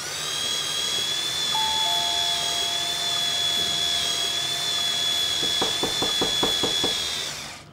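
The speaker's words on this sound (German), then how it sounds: "Da klopft doch jemand." Knocking on a door, a quick series of about eight sharp raps near the end, heard over a steady high-pitched electronic hum that runs through the whole clip.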